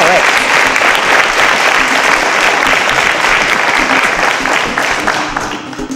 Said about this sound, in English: A round of applause for them as they all got the answer